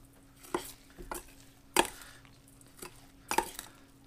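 Panko is stirred into a crab cake mixture in a bowl, giving a few soft, separate scraping and clinking strokes of the utensil at close range over a quiet background, with no talking.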